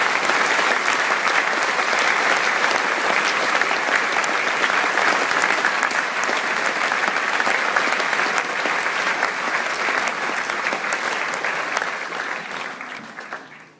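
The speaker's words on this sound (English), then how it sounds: "A big round of applause for" Sustained applause from a large audience at a school awards assembly at Churchie, dense and steady for nearly fourteen seconds before tapering off at the end.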